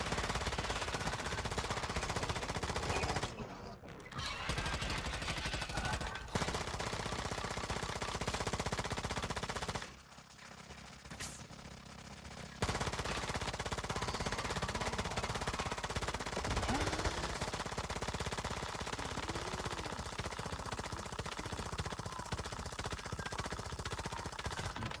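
Automatic gunfire in Once Human blasts shade monsters, loud sustained bursts running nearly continuously, broken by two brief pauses.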